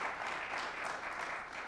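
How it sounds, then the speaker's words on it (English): Crowd applause at a high school basketball game between Belvidere North and Stillman Valley, a brief steady wash of clapping heard from a distance in the gym. "Round of applause for them."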